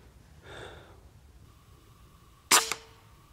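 A single sharp, loud crack of a .25 air rifle fired at a raccoon during a daytime hunt, preceded by a faint breath-like sound, otherwise quiet surroundings.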